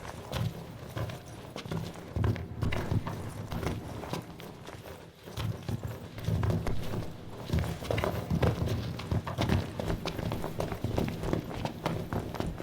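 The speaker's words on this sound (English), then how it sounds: "These guys' footsteps in this cave sound completely ridiculous." Characters walk through a cave in Final Fantasy XV, their footsteps clopping in a rapid, irregular, echoing patter that runs continuously, several feet overlapping.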